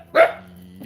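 One short, close bark from a startled pet dog rings out, then a quiet room hum follows.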